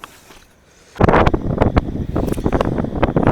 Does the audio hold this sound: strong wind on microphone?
yes